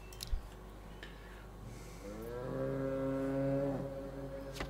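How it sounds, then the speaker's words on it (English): A cow in the medieval village-building game Manor Lords lets out one loud, drawn-out moo that rises and fades, preceded by a short click and a quiet ambient background. "That is a loud cow."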